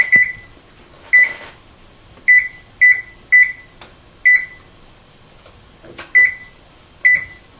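Oven timer being set and started, a series of about ten short, clear electronic beeps at uneven spacing, close and alone in a quiet kitchen.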